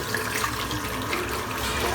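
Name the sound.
rinsing a shaving brush under running tap water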